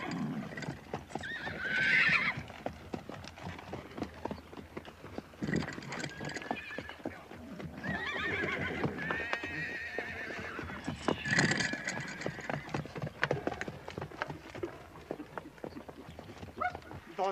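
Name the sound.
horses neighing and hooves clip-clopping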